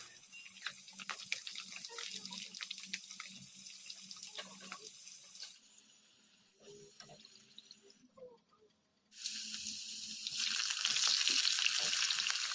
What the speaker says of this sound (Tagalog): lulutuin muna natin o piprituhin muna natin itong mga patatas